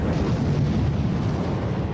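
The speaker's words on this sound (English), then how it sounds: "Nearly 200 ships bombard 50 miles of the Normandy coastline." Naval bombardment of the Normandy coastline by nearly 200 battleships, cruisers and destroyers, heard as a continuous dense roar of overlapping explosions and deep rumbling booms with no pauses.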